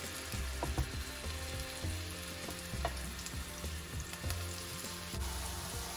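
Chicken pieces fry in oil in a nonstick pan, sizzling steadily and close, with regular stirring scrapes and taps through the frying.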